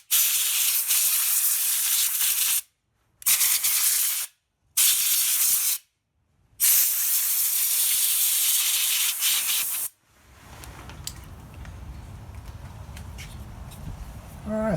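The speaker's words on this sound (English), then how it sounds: "I will be taking the air compressor" An air compressor nozzle blowing dust out of a 1995–96 Lasko box fan, loud hissing blasts in several bursts with short gaps, followed by a quieter rumbling hum with faint clatter.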